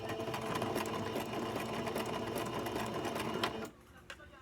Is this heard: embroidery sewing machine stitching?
yes